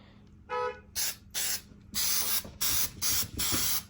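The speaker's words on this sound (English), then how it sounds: "What you got to do is spray this on" Spray adhesive hissing onto a car door panel for upholstery on an RSX, seven short bursts, the first faint and the rest loud and close, with quiet gaps between.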